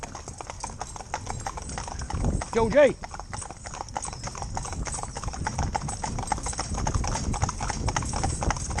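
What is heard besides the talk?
horses' hooves clip-clopping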